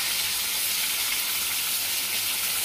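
Tilapia pieces shallow-frying in hot oil in a pan, a loud, steady, dense sizzle that fills the whole stretch without pause.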